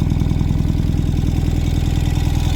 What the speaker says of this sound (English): here it's idling happily here. A nice low and steady idle